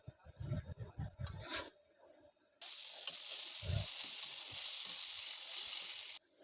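Onion and potato fry in hot oil in a home kitchen, a steady, bright sizzle of the pan holding for several seconds after some earlier clatter and stirring, close and fairly loud.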